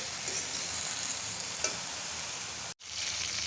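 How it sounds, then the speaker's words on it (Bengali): Food coated in gram flour batter frying in hot oil, a steady close sizzle with faint stirring and no talk, cut by a brief dropout near the end. "বেসন দিয়ে ভাজলাম দুপুরে খাওয়ার জন্য মশমশা করে আস্তে আস্তে ভাজতে হবে"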